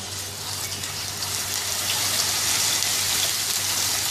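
Ground raw onion frying in oil in a pan over medium heat, a steady close sizzle with a soft rain-like hiss throughout, no voices.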